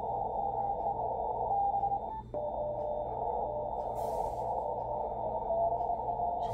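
Steady continuous CW Morse tone from a Yaesu FTdx10 transceiver in CW mode, a single held pitch over faint receiver hiss, with no talking.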